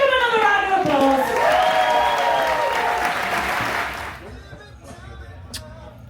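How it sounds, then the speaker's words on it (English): A crowd on a cruise ship applauds loudly with cheering and voices, including children's shouts. The applause holds for about four seconds, then drops off to quieter chatter. "Give him another round of applause"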